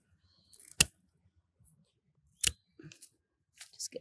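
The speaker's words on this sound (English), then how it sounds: "You can use loppers for smaller branches, but secateurs are better. They've got a cleaner, sharper cut." Secateurs snip through small branches during garden pruning: a handful of crisp, separate cuts with short rustles in between, close by in otherwise quiet surroundings.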